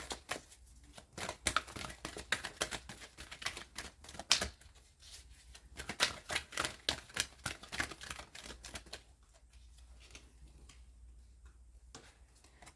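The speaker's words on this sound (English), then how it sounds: "The reconciliation deck. I'm gonna get some cards from here." Tarot cards drawn and handled from a deck, producing a dense run of quick clicks, taps and card snaps, close and fairly quiet, easing off to sparse light rustles near the end.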